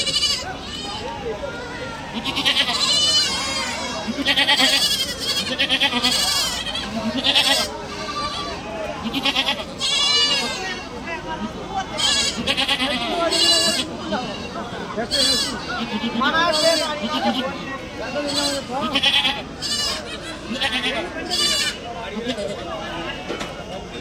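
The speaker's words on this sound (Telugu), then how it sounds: "ఇవి కొన్ని పాల మేకలు" Milk goats for sale at the Tuesday goat market in Kadiri, many loud bleats overlapping close by and repeating throughout, with people talking among the animals.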